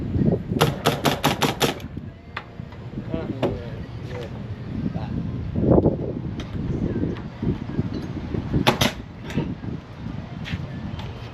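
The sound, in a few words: nail gun firing into garage roof framing timber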